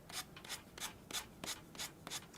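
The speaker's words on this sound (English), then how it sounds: "I love using sandpaper or sanding block." Rhythmic scratchy rubbing of a sanding block on paper edge, about eight quick strokes in steady succession, close and fairly quiet.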